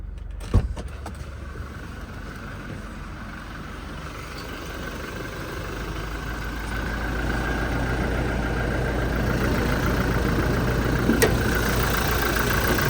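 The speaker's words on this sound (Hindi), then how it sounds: "इसकी गड़गड़ाहट सुनना फिर आप।" A Toyota Innova Crysta 2.4 diesel engine idles steadily with the hood open, a continuous low rumble that swells slightly louder partway through after a faint click at the start.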